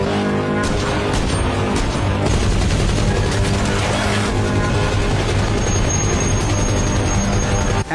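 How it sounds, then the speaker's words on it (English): A loud, dense barrage of gunfire from a monster film scene, rapid overlapping shots and booms rolling continuously for several seconds with no voices. "After a barrage of fire,"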